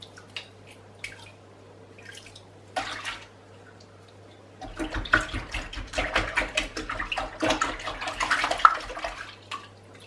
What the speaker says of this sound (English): Wash the brushes out in soapy water,